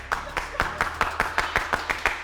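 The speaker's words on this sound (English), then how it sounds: "Slow clap." A school audience does a slow clap, about ten sharp, evenly spaced claps in unison with a steady rhythm, fairly close and clear.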